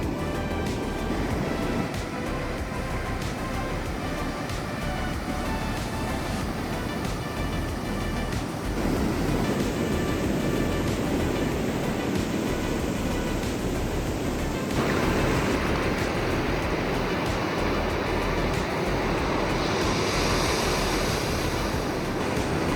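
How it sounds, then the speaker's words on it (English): Ocean waves breaking on the beach at Barra da Lagoa, a surfing village beach in Florianópolis, Brazil, in the early morning: a steady, loud wash of surf rolling continuously with no talk. "Let me show you a little bit of the ocean."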